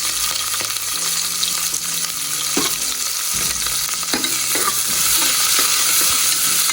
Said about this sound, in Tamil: அது விரிச்சோன்னே வெங்காயமும் பச்சை மிளகாயும் போட்டு வதக்கணும்